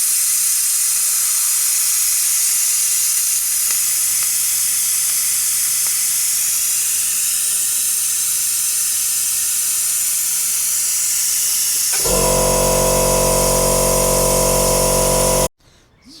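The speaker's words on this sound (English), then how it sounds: "So, I'll drain out the reservoir first" Brake fluid is sucked out of a Ford Fiesta reservoir, a steady close hiss that gives way to a louder humming pump-like drone near the end before stopping abruptly.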